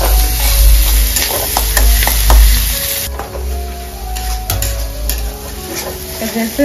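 Spices, with salt and turmeric, frying in a pan while being stirred, giving a steady sizzle with repeated scraping strokes throughout, loud and close, with no talk.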